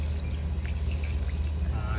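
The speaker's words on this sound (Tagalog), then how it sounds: "So lagyan mo ng tubig." Water poured into a blender jar with avocado and grapes for a shake, a steady continuous liquid pour under a low hum, with a little voice murmur behind it.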